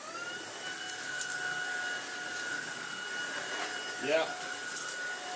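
Tineco A10 Hero cordless vacuum cleaner running on short-pile carpet, giving a steady whirring motor hum with high tonal whine, fairly close, while a person briefly speaks and a short rising tone sweep occurs.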